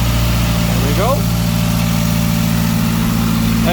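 A turbocharged Mazdaspeed engine idles steadily and loud, a constant low rumble with a brief rising whine partway through, as the running engine burns residue off the hot side of the turbo.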